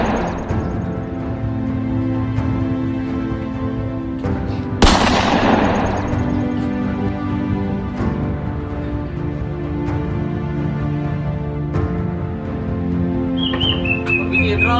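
A single sharp gunshot cracks out during a short historical drama film, loud and close, with a brief burst of noise, then a steady low hum and faint chirps carry on alone.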